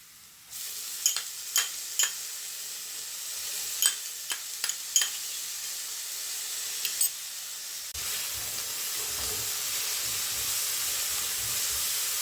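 Onions sauté with a coarse coriander and green chilli kharda paste for egg bhurji, a soft hiss broken by a few sharp spatula taps. Midway the sizzle turns louder and fuller and keeps going.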